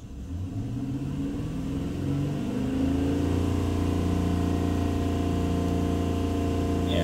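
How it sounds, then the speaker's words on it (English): A 2014 GMC Yukon XL with the 6.2L engine and a MAF sensor performance fault accelerates, its steady rumble climbing in pitch and loudness, heard close up without talk. "Okay, let's accelerate again."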